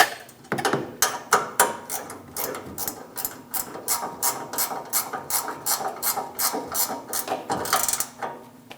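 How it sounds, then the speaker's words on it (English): A 16mm wrench tightens a brake hard line fitting on a 2011-2018 Ram 1500, producing a rapid series of close, scraping ratchet-like clicks and metallic rubs in an uneven rhythm. "Using a 16mm wrench, hold the soft line, and we are going to tighten down our hard line."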